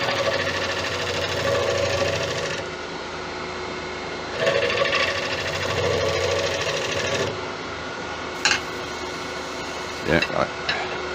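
A wood and resin colour shift bowl turning on a lathe gives a steady mechanical whir with a tool cutting a side bevel, the cutting noise rising and falling in stretches, followed by a few sharp knocks near the end.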